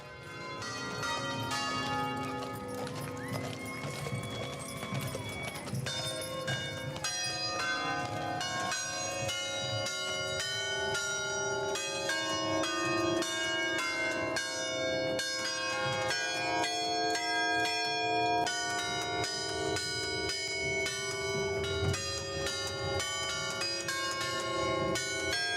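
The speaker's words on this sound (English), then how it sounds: "look at the bells on that wagon. Yes, and this is the Bell wagon." Ringing bells on the circus Bell wagon, built in Baraboo, Wisconsin, rolling in the Big Top Parade, continuous overlapping chimes playing a melodic pattern for the whole stretch, clear and fairly close with no talking.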